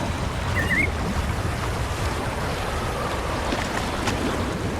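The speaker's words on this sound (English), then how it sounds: "That's a really big waterfall." Large waterfall in the video game Wuthering Waves, a steady broadband rushing roar that holds constant throughout, with a brief faint chirp early on and no talk.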